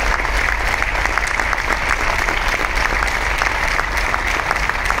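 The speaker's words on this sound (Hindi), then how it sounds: "तालियां इसलिए मत बजाओ दोस्त कि मेरी बात अच्छी लग रही है" An audience claps steadily at a live speaking event, a dense and continuous round of applause that holds at an even level for the whole stretch, with no talking over it.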